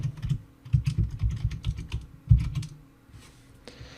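Fingers typing a command on a computer keyboard, a quick irregular run of close clicking keystrokes with a couple of louder taps, then a pause and one final press, no voices.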